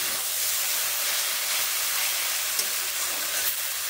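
Bottle gourd leaves fry in a pan, giving off a steady, bright sizzling hiss that holds evenly throughout, close and continuous, with a couple of faint clicks of stirring and no voices.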